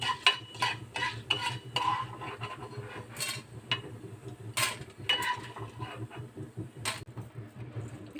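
A spoon scrapes and stirs chana dal as it dry-roasts in a pan for curry leaf chutney, giving steady close scratching and rattling strokes with light sizzle underneath and no talk.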